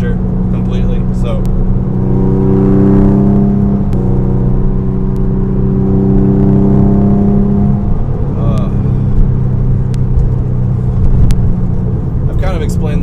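A Porsche 996 911 engine hums and drones steadily from inside the cabin, driven gently while not fully warmed up, pitch rising and falling through gear changes, with someone talking over it.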